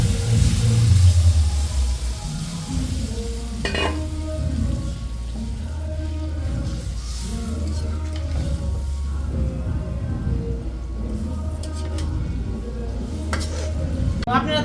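Bengali fish curry bubbles in a pot just after water is poured in, making a low, rumbling simmer with a soft hiss and occasional clinks, moderately loud throughout.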